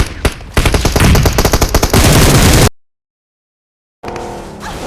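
Rapid automatic gunfire in the mobile battle-royale game PUBG Mobile, loud sustained bursts for about two seconds, then sudden silence, followed by further noisy game sound.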